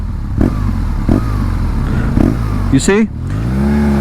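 A BMW R nineT Scrambler boxer-twin motorcycle engine idles with a low, steady throb and periodic louder pulses, while someone speaks briefly over it near the end.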